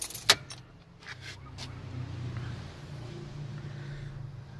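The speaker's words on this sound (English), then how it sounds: "You've got 2 keys with this car" A brief metallic jingle of the two keys for a Mini Cooper 1.6 hatchback near the start, followed by low, steady background rumble inside or beside the car.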